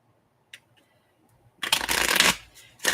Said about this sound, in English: Let's shuffle up the deck.